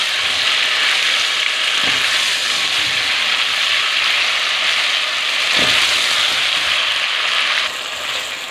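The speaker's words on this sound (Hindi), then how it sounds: "अदरक लहसुन को भी इसके साथ ही हम भूनेंगे, फ्राई करेंगे।" Ginger and garlic frying with chicken pieces in a pan, producing a loud, continuous close sizzle with a couple of faint stirring scrapes and no talk.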